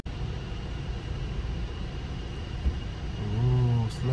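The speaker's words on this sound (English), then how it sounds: "And the train's about to go." A small holiday train starting to move on Hayling Island, a low rumbling hum that builds gradually with rising mechanical tones near the end, close and moderately loud.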